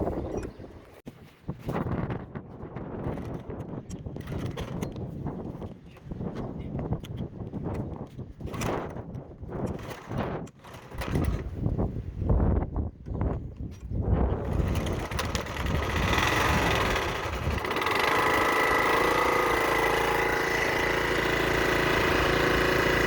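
An old, tired and worn gasoline pressure washer engine coughs and sputters through uneven bursts before catching and settling into a steady, loud running drone, up close.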